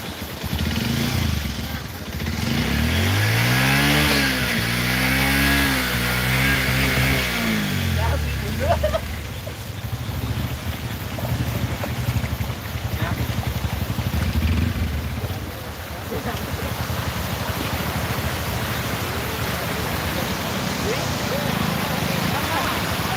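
A boat engine runs steadily on the flooded Krishna river, a loud close drone whose pitch rises and falls early on, then settles into a rough rumble with water noise while people talk over it.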